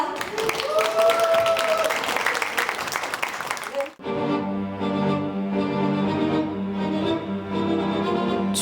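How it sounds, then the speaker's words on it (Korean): An audience claps to open a citizens' arts festival, a bright burst of applause for about four seconds that cuts off as orchestral string music begins. "지금부터 본격적으로 2025 시민예술 한마당 행사를 여러분의 뜨거운 박수와 함께 시작하겠습니다."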